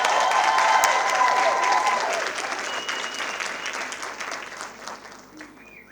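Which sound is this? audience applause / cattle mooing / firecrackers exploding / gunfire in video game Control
audience applause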